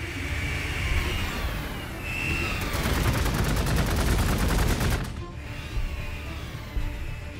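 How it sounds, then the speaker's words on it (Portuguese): Rapid bursts of video-game gunfire from Warhammer 40k: Gladius as Space Marine units shoot at a small robot, a dense rattling volley over steady game ambience that stops abruptly near the end. "Vamos encher de tiro esse robôzinho aqui."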